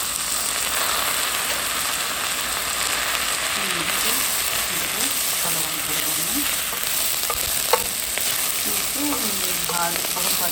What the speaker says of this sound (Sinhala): දැන් මේක ගින්දර අඩු වෙන්න හාල් ටිකක් විනාඩි 5ක් විතර බැද ගන්න